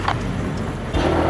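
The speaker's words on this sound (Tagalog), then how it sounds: "maganda na yung tunog ng motor natin" A motorcycle engine runs with a loud, steady, close rumble and a slight rise in intensity near the end, with no other sounds standing out.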